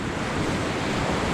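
Ocean surf washing onto a beach at Deepwater National Park in Australia, a continuous loud roar of waves with wind buffeting the microphone and no voices.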